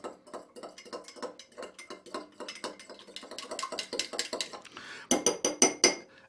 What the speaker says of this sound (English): And just stir it until it's dissolved.